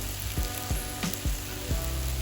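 A spinach wrap sandwich sizzles in a pan, a steady close hiss of frying with a few small pops and clicks, alone with no talking.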